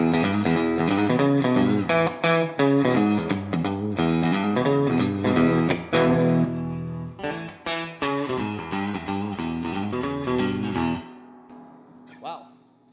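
Twangy Telecaster picking through a Jet City 20 amp with a WGS Retro 30 speaker and added reverb, a busy clean riff played close and loud, then a last chord left to ring out with a reverb tail.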